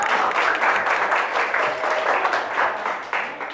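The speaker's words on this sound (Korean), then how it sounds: "박수 한번 칠까요?" An audience applauds at a live business lecture on prosumer economy trends, a dense, steady round of clapping that holds for several seconds with no one speaking.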